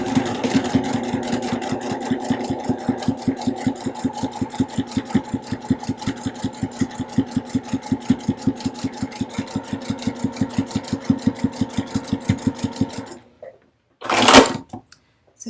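A sewing machine stitches fabric straps with a 1/4 inch presser foot in a fast, steady rhythmic clatter that runs for about thirteen seconds and then stops. A short burst of noise follows.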